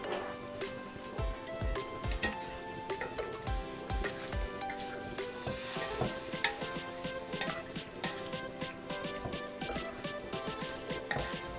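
Pancit noodles with meat and black pepper are stirred in a pan, with irregular scraping and tapping of a utensil against the metal over a light sizzle, close by and moderately loud.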